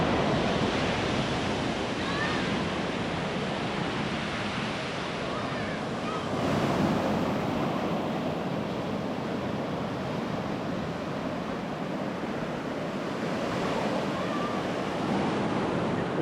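Ocean waves washing onto a beach at Punta Cana, a continuous roar of surf with gentle swells, mixed with wind buffeting the microphone.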